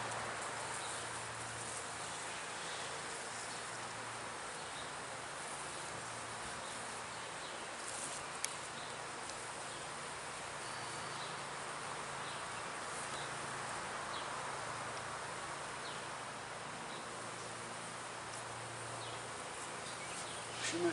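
A thin population of honeybees buzzes continuously in an opened hive box, a soft, even drone with a low hum beneath and no talking, one brief faint tick midway.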